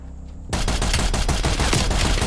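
DMR rifle fire in a video game cuts in after a short quiet moment and becomes a loud, dense run of rapid close shots that continues to the end.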